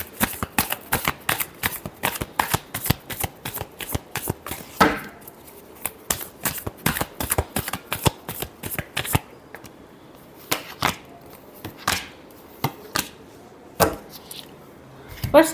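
Tarot cards shuffled by hand in quick, crisp riffling bursts, a dense run of sharp slaps and flutters near and loud, then sparser, spaced shuffles toward the end.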